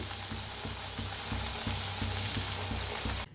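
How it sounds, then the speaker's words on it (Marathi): Chakli fry in hot oil with a steady, dense sizzle and crackle that holds evenly throughout before cutting off abruptly at the end. "आता सगळं असंच तळून घेते"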